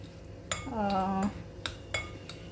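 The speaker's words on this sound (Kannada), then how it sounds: "ಈಗ ಬಿಸ್ಕಿಟ್ ಹುಡಿ ರೆಡಿ ಇದೆ ಅದಕ್ಕೆ ನಾವು ಈ ಬಟರ್ ಹಾಕಿ ಇದನ್ನು ಚೆನ್ನಾಗಿ ಮಿಕ್ಸ್ ಮಾಡ್ಕೋಬೇಕು" A spoon scrapes and clinks against a bowl while butter is worked into crushed biscuit crumbs for a no-bake cheesecake base, a few sharp metallic taps separated by short scraping strokes, close and fairly quiet.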